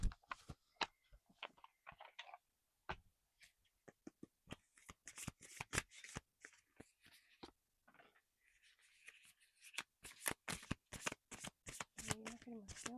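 Affirmation cards being shuffled in a soft-spoken ASMR reading: a long run of crisp, close riffling and flicking bursts, some quick and clustered, others spaced by brief pauses, with faint breathy sounds in between.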